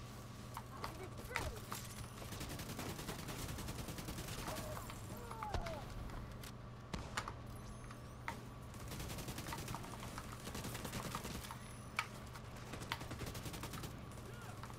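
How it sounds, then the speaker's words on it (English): Enemy gunfire from behind in The Division 2 shooter game, scattered sharp shots and short bursts at moderate distance, interspersed with clatter, while people talk over it. "Who the heck is shooting at me from behind?"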